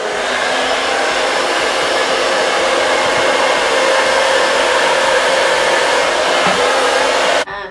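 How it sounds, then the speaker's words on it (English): A hair dryer blows steadily and loud at close range while fine, flat, thin short hair is blow-dried, an even whooshing whine that cuts off abruptly at the end, with no talking. "just gonna go in and just start sectioning the hair and blow drying"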